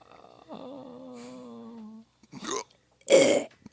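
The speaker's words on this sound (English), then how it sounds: "That was a phlegmy burp." A phlegmy burp: a long, low, wet belch, followed by two shorter rough throaty bursts, the last one loudest, all close and with no speech.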